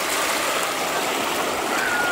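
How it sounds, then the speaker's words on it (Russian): Sea surf washes in a bay at Shamara in Primorsky Krai, a continuous broad rushing hiss of water heard close and fairly loud, with no voices. "Шум прибоя, который всегда успокаивает."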